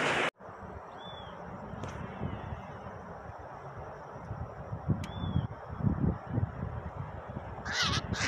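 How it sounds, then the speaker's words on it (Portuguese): Two short, sharp bird calls, roughly four seconds apart, ring out over a steady rush of outdoor wind and waterfall noise. "passarinho comedor de isca tá ali, ó"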